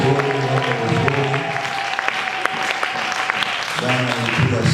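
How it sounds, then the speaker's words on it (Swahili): A church congregation at a gospel seminar claps praise to God, steady crowd clapping under a strong sustained tone and some voices, fading then swelling again near the end. "Tupige makofi kwa Mungu wazuri"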